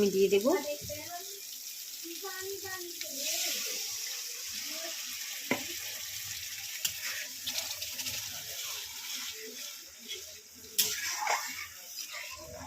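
Water poured into a pan of cooking spice mix for egg curry, a soft running, splashing trickle heard faintly under a woman's speech, with a few light clinks of utensils.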